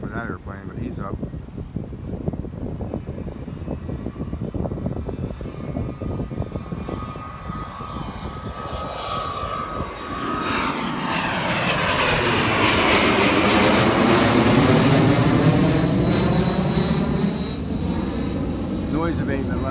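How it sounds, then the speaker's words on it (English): A Hawker jet takes off after a long roll and climbs out, its engine roar swelling loud and steady from midway and holding through the climb, with a rising whine on top. "Kind of a long roll for that airplane, but he's up."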